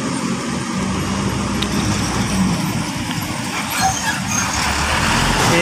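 A large Hino 500 truck engine rumbles steadily nearby at a busy intersection in the MM2100 industrial area, with road traffic noise and faint hiss around it.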